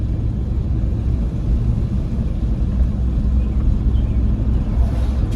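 A 1986 Chevrolet C10 Suburban with a carburetor flat spot and an automatic transmission runs on the road. A loud, steady low engine rumble and road noise fill the cabin without interruption.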